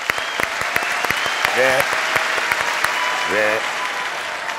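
A studio audience at a Turkish folk music television show applauds a guest musician: steady, full applause throughout, with a voice briefly heard over it twice.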